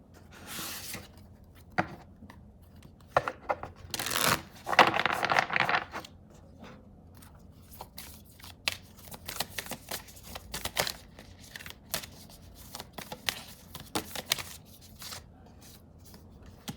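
Oracle cards get shuffled up close, giving soft riffling rustles and flicks in bursts, with a denser flurry partway through and lighter taps and slides afterward, and nobody talking.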